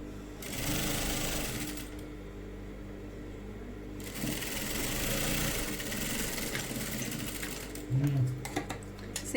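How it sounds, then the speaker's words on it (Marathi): A sewing machine runs a cover stitch along a blouse sleeve in bursts of steady humming whir, pausing briefly in the middle, then resuming with some faint handling clatter near the end. "बाहीला कव्हर टिप मारून घेते."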